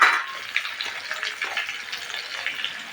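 Chopped tomato and ginger fry in a hot pan, giving a steady close sizzle with crackling spatters, louder for a moment at the start when the ingredients hit the oil.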